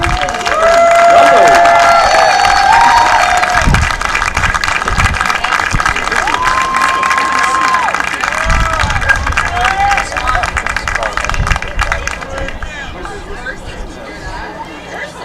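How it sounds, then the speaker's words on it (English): At a Tufts baseball doubleheader against Bowdoin, a crowd claps and cheers for the Tufts 2023 seniors while an announcer speaks over the PA. The applause is lively at first, then gradually thins and fades. "let's have a round of applause for the Tufts 2023"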